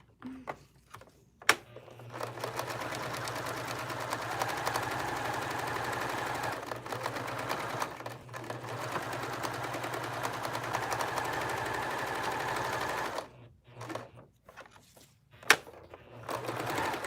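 A sewing machine with a dual feed foot stitches a taggie blanket, a steady mechanical whir running for long stretches with brief pauses and clicks between runs.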